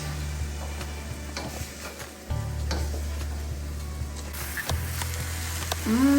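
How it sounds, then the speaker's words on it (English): Corn and black beans are stirred in a pan for lasagna filling, giving a steady close sizzle with soft scraping stirs over a low constant hum. "Now we need to add the corn and the black beans. And mix it."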